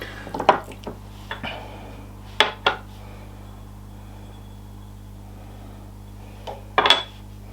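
Chicken wings being tossed with salt in a bowl before air frying, heard as a few brief clinks and soft knocks of the bowl at intervals against quiet background hum.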